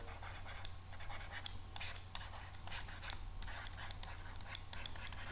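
Chalk or marker scratching across a classroom board while an equation is written out, a steady stream of soft, uneven scraping strokes with short pauses between them, fairly faint and heard alone.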